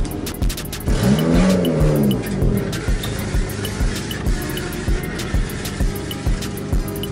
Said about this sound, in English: Just a bit of exhaust.